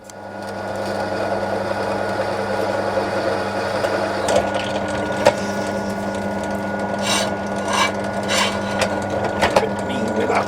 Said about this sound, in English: Couple of M8 tap holes through my little sub plate.